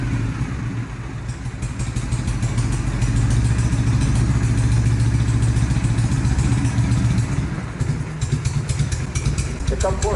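A restored 1970 Harley-Davidson FLH with a shovelhead engine idles close by, a steady loping rumble with mechanical clatter throughout, loudening slightly midway, with someone speaking over it.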